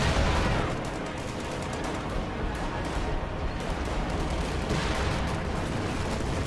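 MG42 machine gun and rifle fire in a World War II strategy video game, dense overlapping bursts and rattling shots with booms under a steady roar of battle, continuous throughout.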